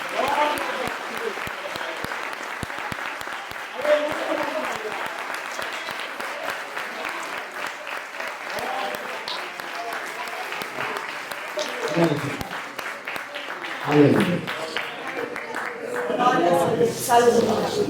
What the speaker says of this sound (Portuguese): Você pode aplaudir a Jesus para essa noite.